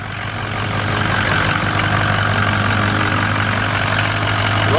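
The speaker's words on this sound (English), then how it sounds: "So you can hear the truck running." A Ford 6.0 Powerstroke diesel pickup engine idles with a steady low rumble and constant drone, close by and unbroken for several seconds.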